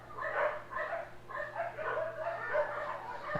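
A group of dogs yaps and barks continuously in overlapping bursts, near and lively, over a steady low background hum.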